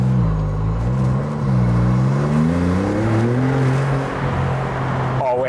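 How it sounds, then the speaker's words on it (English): A Maserati MC20 Cielo with its V6 Nettuno engine accelerates hard, the engine note climbing in a loud, rising drone through gear changes, close and continuous. "Oh, it is a brutal acceleration, to be fair, AJ."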